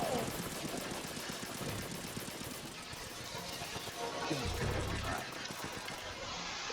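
Rapid bursts of gunfire from the Metal Gear Solid 2 video game, dense and continuous, with game speech and effects mixed in throughout.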